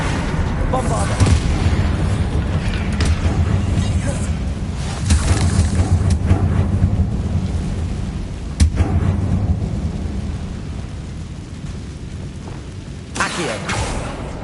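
Bombarda blasting spell bursting in Hogwarts Legacy, heavy booming explosions with rumbling low end rolling through a loud, continuous battle din, several sharp blasts standing out.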